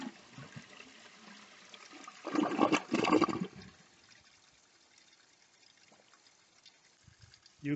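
A 1957 Standard Cadet toilet fitted with a flapper valve flushes in one strong, close rush of water lasting about a second and a half, then settles into a faint trickle as the tank refills.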